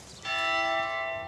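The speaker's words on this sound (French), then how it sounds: "les cloches devraient sonner maintenant" A church bell in Alsace strikes once with a bright metallic clang and rings on with a sustained, slowly fading hum, clear and fairly close with no voices.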